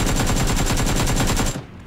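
Rapid automatic gunfire from a weapon in the battle royale video game PUBG, a loud, steady stream of closely spaced shots lasting about a second and a half before cutting off abruptly.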